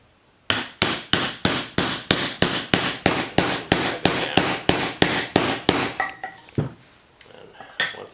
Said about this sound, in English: once we have the cap in place, we just get ourselves a mallet.